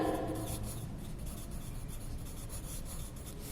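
Someone writes on paper during a children's maths lesson on shapes, a steady close scratch of a pen or pencil running on without a break and alone, with no speech over it.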